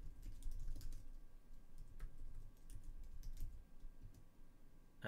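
Steady keystrokes on a computer keyboard as a curl command is typed during Docker Swarm testing on a Raspberry Pi, a continuous run of close, moderately loud clicks over a low room rumble, with no talk.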